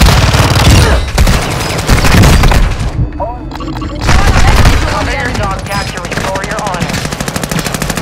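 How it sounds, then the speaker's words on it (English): Rapid bursts of firework-weapon fire and booming blasts from the Call of Duty: Modern Warfare II video game, loud and dense throughout with a short lull midway, while players talk over the action. "He got his firework weapon."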